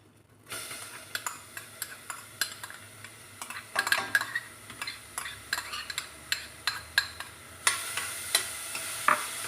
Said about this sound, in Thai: ผัดหอมกันเลยค่ะผัดจนหอม